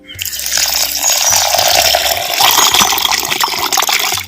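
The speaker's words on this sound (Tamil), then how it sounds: "அதுக்கு தேவையான அளவு பச்சை தண்ணி சேர்த்துக்கிறேன்" Water pours into a container of soaking rice, urad dal, toor dal and fenugreek, a loud, continuous gushing splash lasting several seconds before tapering off.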